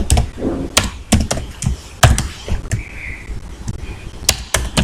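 Keys clatter on a computer keyboard in a quick, uneven run of close, crisp taps and thumps, with a few heavier strokes, probably the spacebar or enter key, while someone codes.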